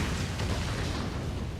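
A large explosion erupts beside a character in a video game finale, a dense, sustained rumbling blast that stays loud and full throughout with no break, heard alone without talk.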